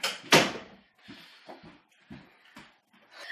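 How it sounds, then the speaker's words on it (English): A door is closed indoors: a sharp close thump early on, followed by several softer knocks and rustles at irregular intervals. "I have to go close my door"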